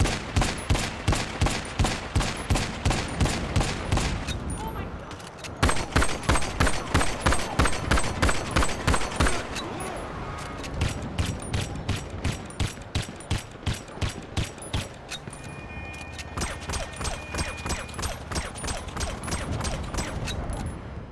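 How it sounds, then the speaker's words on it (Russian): A ceramic pistol is fired repeatedly into the sky in GTA Online. Sharp shots ring out in a fast, steady rhythm throughout, with one brief pause partway through. "Вот различия по звуку стрельбы."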